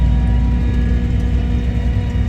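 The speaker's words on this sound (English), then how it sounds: "This chopper needed some work this year." A tractor-driven hay chopper rumbles in a field while cutting fourth-crop hay, giving a loud, steady, low engine drone with a constant mechanical whine and no break or talk.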